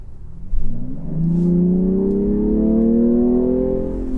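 A 2021 BMW M340i engine revs up in sport mode, a loud, close rising drone that swells after a brief start and holds steady, climbing in pitch as it builds, with no talk over it.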